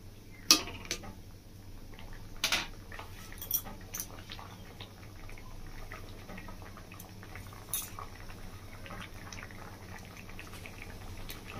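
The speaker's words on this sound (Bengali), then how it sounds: "এই দেখুন বন্ধুরা, আমটা খুব ভালোভাবে সেদ্ধ হয়ে গেছে ডালের মধ্যে।" A pot of masoor dal with mango and a little turmeric simmers as a soft, steady bubbling hiss, with a few light clinks of utensils now and then, close and low in volume.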